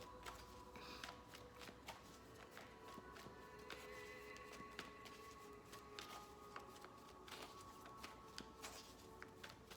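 Soft, continuous riffling and flicking of tarot cards being shuffled nearby, with brief sharp snaps scattered throughout and no talking.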